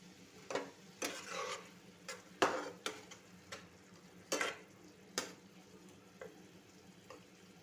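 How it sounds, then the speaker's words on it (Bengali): Fried prawns tipped into a boiling raw mango gravy and stirred: scattered scraping and clattering stir strokes over a steady low simmering sizzle, close and moderately loud, with no voices. "ঝোলটা ফুটে গেলে ভেজে রাখা চিংড়ি মাছগুলো দিয়ে দিন।"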